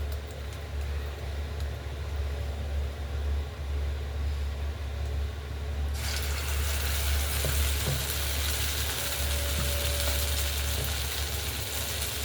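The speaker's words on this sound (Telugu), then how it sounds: "ఇప్పుడు గారెలు వేసుకుందామండి 1 by 1." Jaggery vadas (garelu) frying in hot oil make a dense, continuous hiss. The sizzle swells louder and brighter partway through as more batter is dropped in one by one, and no one speaks.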